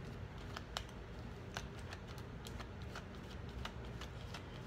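Tarot cards shuffled and pulled from the deck, a steady run of crisp, close flicks and snaps in a quiet room with no voices.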